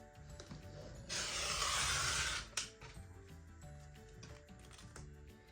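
Patchwork fabric is cut on a cutting mat: one quiet, steady swishing cut lasts about a second and a half and ends in a small click, set among faint taps and handling noises.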